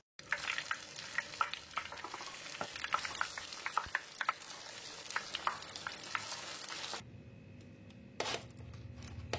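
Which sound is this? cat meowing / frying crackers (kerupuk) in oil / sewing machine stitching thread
frying crackers (kerupuk) in oil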